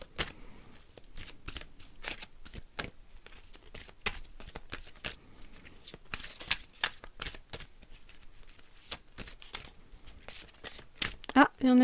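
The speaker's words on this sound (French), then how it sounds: "Je vais prendre une carte de l'oracle viking pour recentraliser un petit peu toutes les énergies." Viking oracle cards are shuffled in a steady run of crisp riffling flicks and slaps, close and continuous, with someone speaking over the shuffling.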